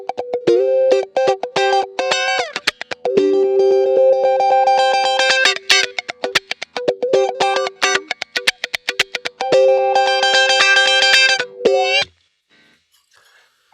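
An electric guitar played through a Kemper Profiler with an 80s-style direct tone plays bright, rhythmic chords and quick licks for about twelve seconds, then stops, leaving near silence.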